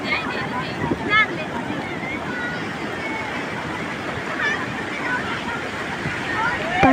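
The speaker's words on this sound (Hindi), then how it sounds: "अब शाम के 6 बज रहे थे और लहरें काफ़ी तेज़ हो गई थी" Strong evening sea waves break at Kovalam beach in Kerala in a steady, roaring wash mixed with wind buffeting, while a faint babble of people carries in the background.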